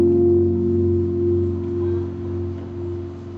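A smooth jazz chord on a keyboard is held for a few seconds, its low and mid notes sustaining together and slowly fading, heard close and alone.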